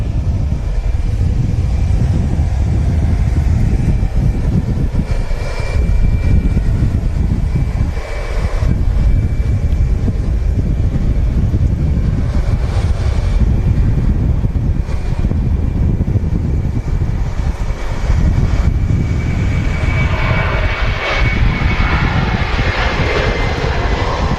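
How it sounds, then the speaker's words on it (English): An Aer Lingus UK Airbus A330 starts its takeoff roll at Manchester Airport. A loud, continuous jet engine roar with deep rumble holds steady throughout and swells slightly toward the end. "Aer Lingus UK A330 on the roll."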